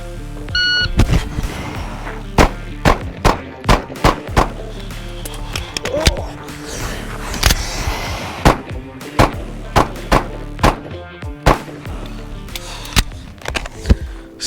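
Pistol gunshots during a reload shooting drill on a range, a string of sharp, loud, closely spaced cracks with a short gap for the reload, then more rapid shots and electronic timer beeps.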